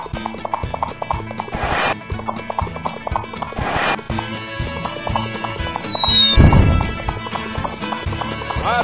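Horse hooves clip-clop in a fast galloping rhythm for a Pringles Pony Express commercial, with a short neigh and whooshing effects layered over a bright backing track.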